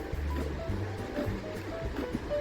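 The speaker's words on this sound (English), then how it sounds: "So guys, you can see it is splashing all over." Water splashing from a DeLonghi Dedica coffee machine during its descaling cycle: a continuous wash of splashing and gurgling with faint tonal beeps, fairly quiet and steady.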